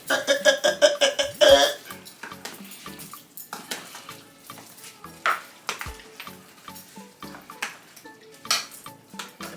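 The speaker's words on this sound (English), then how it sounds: "just stir up the chicken, just stir up the wing them" Jerk chicken wings are stirred in a pot, producing repeated metallic scrapes and clinks of a utensil against the pot over a faint sizzle, steady and close throughout.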